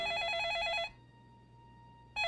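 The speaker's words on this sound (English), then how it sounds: "Get in the door, phone's ringing." A telephone bell rings in a steady warbling trill, loud and close, then cuts off into quiet room hum before another ring starts at the very end; nobody speaks.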